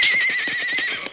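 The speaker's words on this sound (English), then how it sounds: "You stampeded my horses." Stampeding horses neigh in a loud, close whinny with rapid clip-clop hoofbeats pounding beneath it, no voices heard.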